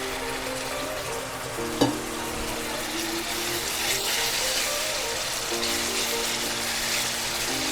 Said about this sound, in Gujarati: थोड़ुं पाणी नाखी आपणे हलावशुं